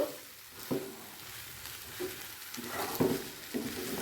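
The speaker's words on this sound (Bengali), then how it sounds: "আলু আর সয়াবিনটা মশলার সাথে ভালো করে মিশিয়ে নেব" Fried potatoes and soya chunks are stirred into a cooked spice masala in a pan, giving a low sizzle with a few distinct scraping strokes of the spoon against the metal.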